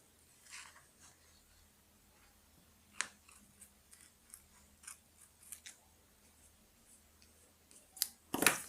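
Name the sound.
cutting masking tape with scissors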